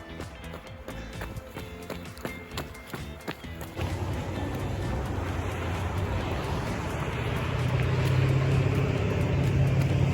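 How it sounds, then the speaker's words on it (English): Street traffic rumbles steadily through downtown Moncton, a continuous urban drone that swells after a stretch of light rhythmic footsteps on pavement at the start. "Still traffic around, as you can hear."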